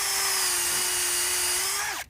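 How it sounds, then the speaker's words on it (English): A power drill bores a tap hole into a maple tree for syrup, a loud, steady high whine held for about two seconds before it winds down and stops abruptly. "So we drill our hole,"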